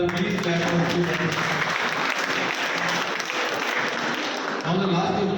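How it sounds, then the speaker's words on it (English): Students at a breastfeeding quiz competition at Jai Durga College of Nursing receive sustained applause from the audience, dense clapping that fills several seconds and eases off briefly before swelling again near the end. "Please clap for students."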